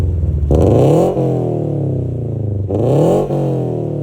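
A Subaru BRZ's boxer engine revs hard twice through an Invidia exhaust, the engine note climbing sharply and dropping back between bursts, loud and close with no voices.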